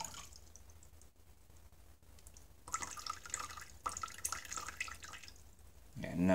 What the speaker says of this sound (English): this happens to pour better than any of the teapots I've made before